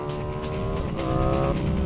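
Yamaha M7 Turbo motorcycle engine played from a test video, a revving tone with rising and falling harmonic whine, moderately loud and steady throughout.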